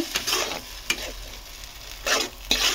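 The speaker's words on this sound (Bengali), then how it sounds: "কালো জিরে পেঁয়াজ ফোড়ন দিয়ে আদা জিরে মরিচ টমেটো পেঁয়াজ দিয়ে মশলাটা কষিয়ে নিলাম" A spice paste of onion, tomato, ginger, cumin, nigella seed and chili fries loudly in oil, with a spoon scraping and stirring through the steady sizzle in several strong strokes.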